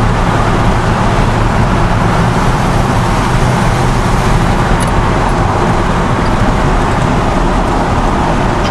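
A 1954 Ford F-100 pickup cruises at about 56 mph on a back road, its engine and exhaust making a steady, loud, unbroken drone mixed with road and wind noise.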